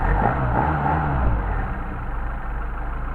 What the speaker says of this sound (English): Let's give a little blip of the throttle, start it out.